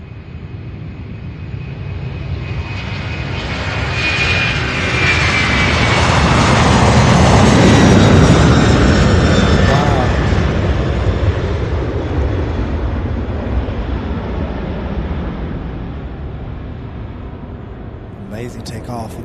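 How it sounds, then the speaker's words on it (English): An Airbus A300 takes off from Louisville's SDF airport, its jet engines roaring as a broad, rising swell that peaks mid-clip and then slowly fades into distant rumble, with wind buffeting the microphone. "looks like that Airbus A300 getting ready to take off now"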